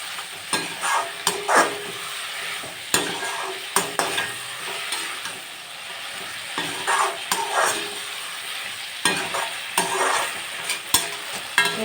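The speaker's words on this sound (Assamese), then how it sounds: "মই পুনৰ ধুনীয়াকৈ লৰাই দিম।" Jackfruit seeds are stirred in a hot frying pan for a fish curry, with steady sizzling frying and repeated scraping clicks of a spatula against the pan, close and without talk.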